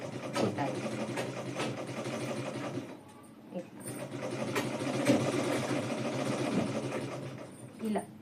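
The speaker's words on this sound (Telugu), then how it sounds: "మిషన్ వెనక్కి తిరగకుండా ఇటు బ్యాక్ సైడ్ తిరగకుండా ముందుకు తిరిగేలా చూసుకుంటూ ఇలా చక్రాన్ని తిప్పుకుంటూ" A foot-pedal sewing machine whirs and rattles as its wheel turns forward, a steady mechanical hum that briefly drops off and then resumes, with a voice talking over it.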